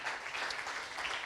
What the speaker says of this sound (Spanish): Dele por favor al Señor un aplauso fuerte